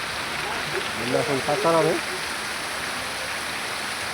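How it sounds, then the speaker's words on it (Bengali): A heavy downpour of rain in Sasaram keeps up a steady, dense hiss throughout. Someone speaks briefly over it near the start. "মুষলধারে বৃষ্টি চলছে।"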